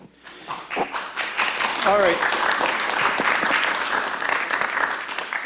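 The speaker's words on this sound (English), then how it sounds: "please keep the clap until the end if you're going to be clapping" An audience claps throughout a zoning board of appeals meeting, a steady rush of many hands that starts up quickly and stays loud, with a voice speaking briefly over it.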